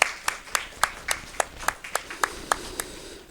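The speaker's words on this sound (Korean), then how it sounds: "박수로 한번 축복하겠습니다" A church congregation at Sunday morning worship claps to welcome a visitor, one person's steady, evenly spaced handclaps sounding clearly over a faint background of other claps.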